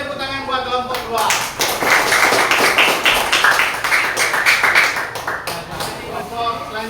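Classroom audience clapping for a student group's presentation, a dense patter of hand claps rising after a second and continuing steadily for several seconds before thinning out, with a little murmur around it.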